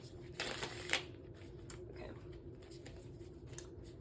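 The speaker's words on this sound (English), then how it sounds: "Let me just shuffle some of these cards." Tarot cards riffled and shuffled by hand in a quiet room, a brisk burst of crisp paper flutter early on followed by softer intermittent card slides, close and alone with no talk.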